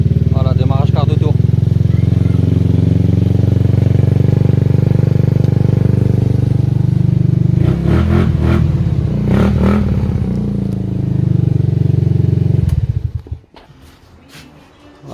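A Suzuki Burgman 125 scooter with a newly replaced automatic choke runs loudly and steadily at close range while someone talks over it, then the engine cuts off near the end.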